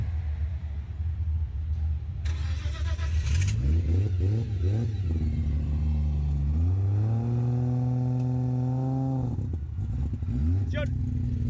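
A drag racing car engine at a race event revs repeatedly in rising and falling surges, then holds a steady high drone before dropping back, loud and close, with people talking over it.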